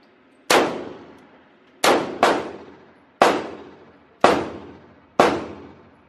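Six loud, sharp gunshots crack at a gun range at irregular intervals, each leaving a short ringing decay, with two fired in quick succession near the start.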